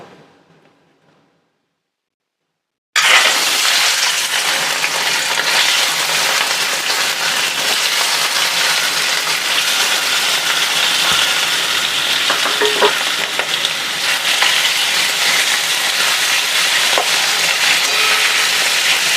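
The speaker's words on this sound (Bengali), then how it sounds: "আমি এবারে একটু ফ্রাই করে নেবো এগুলো তাই আমি কড়াইয়ে ছেড়ে দিচ্ছি" Mushrooms hit hot oil in a wok: a steady, loud frying sizzle starts abruptly after a brief quiet moment and continues without pause, a dense crackling hiss with occasional small pops.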